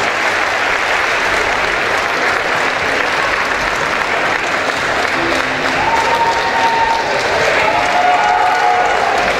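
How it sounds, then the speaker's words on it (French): At the Miss Oise 2022 pageant, the audience gives a beauty pageant candidate a loud, sustained round of applause. The clapping stays thick and even from start to finish, with scattered cheers mixed in. "Candidate numéro 2, si vous applaudissez"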